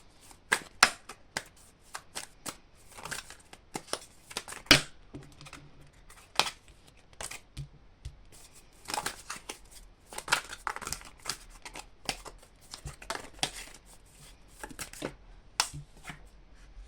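Oracle cards being shuffled by hand, sharp riffling bursts and soft slaps coming in irregular clusters with quiet gaps between, close and clear.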